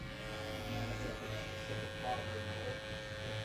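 An electric beard detailer trimmer buzzes steadily and close up while shaping the outline of a square beard, a continuous even hum with slight shifts in pitch as it moves across the hair.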